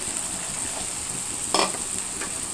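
Stirring bitter gourd curry in a hot pan, with a steady sizzle throughout and a brief, louder scrape of the spoon midway.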